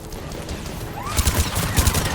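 Rapid gunfire from a weapon in the video game Mass Effect 3, a burst of cracking shots over game background noise with a brief whooshing effect.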